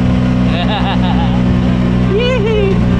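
A road vehicle engine running hard near its limit at about 80, a loud continuous low drone with steady harmonic whine, heard from inside with voices talking over it.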